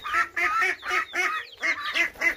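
Caged chickens with a big rooster give a rapid run of loud, harsh, nasal squawking calls, about eight close bursts in quick succession with short gaps between them.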